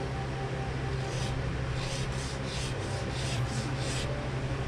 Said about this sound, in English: So I'm going to do that on the sandpaper.